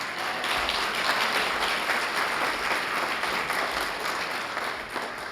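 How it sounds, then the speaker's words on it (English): A round of applause fills the room at a police department annual awards ceremony, a dense, steady wash of many hands clapping at moderate loudness that carries on throughout. "giving him a round of applause for that"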